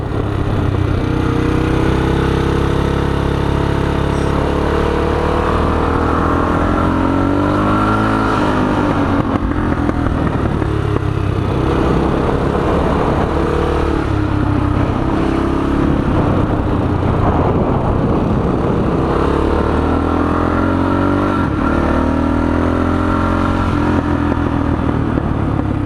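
Close and steady, a Honda XR500R motorcycle engine drones on as it is ridden around the Santa Maria kart track, rising and falling gently with throttle changes, with no talk over it.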